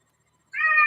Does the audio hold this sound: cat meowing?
yes